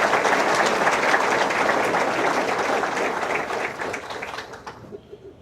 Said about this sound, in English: Big round of applause for our team.